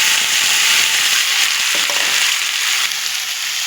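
Hot oil sizzles loudly and continuously in a kadai with cumin seeds and onion frying, a dense crackling hiss close to the listener with no talk.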